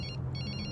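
Telephone ringing in a tense film scene: a steady electronic trill pulsing in short repeated bursts, faint and alone under a low background rumble.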